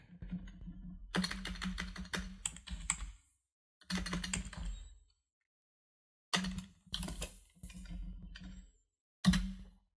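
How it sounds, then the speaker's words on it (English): Typing on a computer keyboard: quick bursts of close, crisp key clicks separated by short silent pauses, with a few louder single taps, all heard alone. "Let's just type in"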